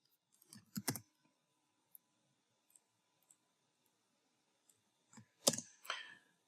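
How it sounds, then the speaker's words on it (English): Typing login credentials on a computer keyboard, with sparse soft key clicks and a few louder clustered clatters at the start and end, quiet and close. "I'm going to go ahead and type in my user credentials."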